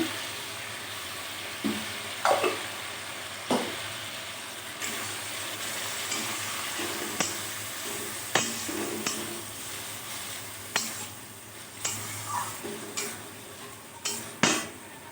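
Spice paste frying in a pan with a little water for saffron pulao, giving a soft steady sizzle with scattered clicks and taps of a stirring spoon against the pan.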